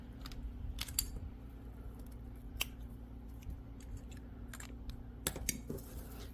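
Scissors snip thread while a bag is sewn, several quiet sharp clicks spaced irregularly over a faint steady hum, close and soft, with no talk.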